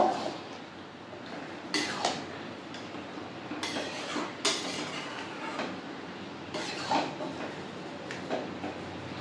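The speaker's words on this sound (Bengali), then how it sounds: "মুগ কড়াইটা ভালো করে মিশিয়ে নেব।" A spoon stirs boiled moong dal into spices in a pan, giving intermittent scraping knocks and metallic clinks at close range. There is no talk.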